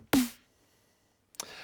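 Two sharp, snappy synthesized snare hits from Phase Plant about a second apart, each a crisp crack with a short tonal ring, separated by silence.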